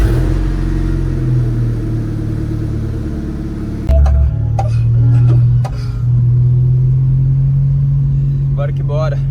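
A car engine cold-starts and revs up, rumbling loud and close with a sharp jump in level, then settles to a steady idle hum while a person talks over it.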